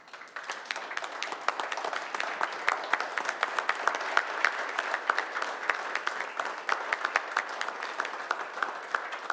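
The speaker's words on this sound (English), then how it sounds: "give them a warm round of applause" Standing audience applause at a city council meeting honoring community members, a steady wash of many hands clapping at moderate volume, continuous from start to finish.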